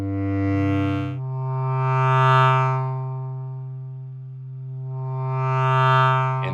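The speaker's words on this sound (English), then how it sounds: "the wind instruments. We've got the bass clarinet," A bass clarinet holds one steady, low, reedy note with strong harmonics, swelling and fading in slow waves as it is gently pushed and modulated, alone and unbroken.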